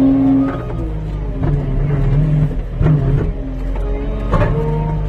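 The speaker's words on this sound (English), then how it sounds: "Just give her some gas and she'll go" A skid steer loader used as a small bulldozer runs under load while pushing material, its engine droning steadily and loud with repeated surges and knocks from the machine's movements.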